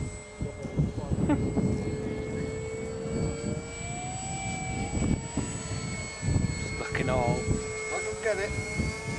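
Electric model trainer airplane going around on final approach, its steady whining motor tone rising and shifting in pitch as it passes, under outdoor talk from people nearby.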